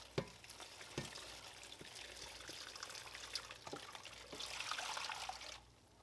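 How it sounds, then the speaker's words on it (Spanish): Hot water poured into a pot of tamales set up to cook, a steady splashing trickle with a few sharp clinks and a brief louder gush near the end, close and alone without talk. "Agrego el agua caliente."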